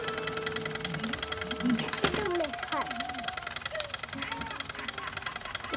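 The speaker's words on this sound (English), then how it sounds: "This is the steam engine." A running steam engine chugs and rattles in a mechanical rhythm, with clanks and a sharp knock, while people talk nearby.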